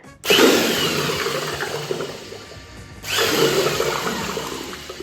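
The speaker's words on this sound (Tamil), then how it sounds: "இந்த பிளெண்டர் வந்து யூஸ் பண்ண போறோம்" A hand blender mixes homemade aloe vera soap, with two loud, close, steady whirring runs divided by a brief drop near the middle, and no voices.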